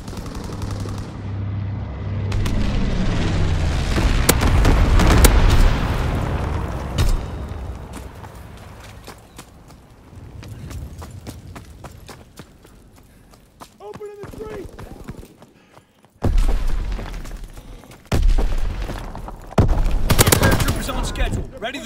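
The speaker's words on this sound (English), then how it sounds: "Incendiary mission commenced." An incendiary bombing run in a video game brings heavy rumbling explosions and rapid gunfire, loud and dense at first, then easing before renewed bursts, with voices talking over the action.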